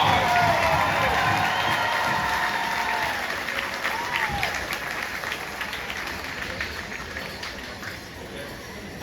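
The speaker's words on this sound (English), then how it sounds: "Let's give him a round of applause." A large crowd at an outdoor powwow applauds a men's fancy dancer, with dense, steady clapping and scattered cheers that taper slowly, while an announcer's voice carries over the noise.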